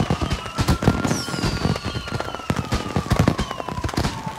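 Fireworks in Watch Dogs 2 burst and crackle in rapid irregular pops, with whistling rockets streaking upward, loud and continuous throughout.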